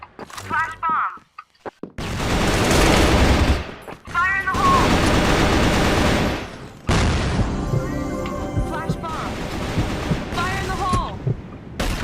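M4A1 Pink Crystal rifle fire in the CrossFire shooter game, long loud bursts of rapid automatic shots broken by short pauses, close and dense, with booming impacts mixed in.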